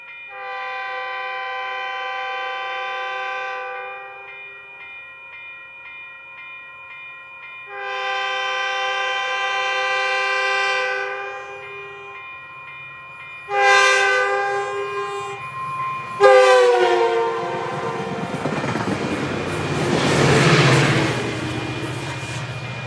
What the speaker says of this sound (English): the 6:45 southbound train departs Woods Cross Station